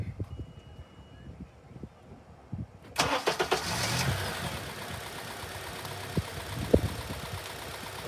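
A car engine cranks and catches about three seconds in, then settles into a steady idle running on all four cylinders, loud and close, with a quiet lead-in before the start.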